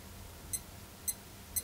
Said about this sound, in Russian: Можно было поставить ежечасный сигнал.